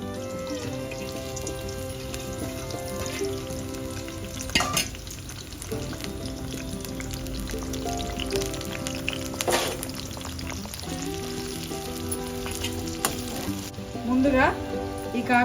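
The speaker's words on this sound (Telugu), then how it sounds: "ఇందులో కాకరకాయ ముక్కలు వేసుకొని దోరగా వేపుకోవాలి." Bitter gourd pieces fry in oil for a pickle, a long continuous sizzle close up, punctuated now and then by spoon scrapes and stirring clatter.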